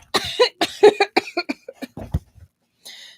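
A series of harsh, close coughs in quick bursts, followed by a short pause and a softer final wheezy breath.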